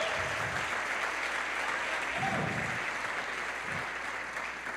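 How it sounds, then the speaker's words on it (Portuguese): A church audience at a conference applauds, a moderately loud, steady wash of clapping that tapers slightly toward the end. "Então aplaude a Jesus aí."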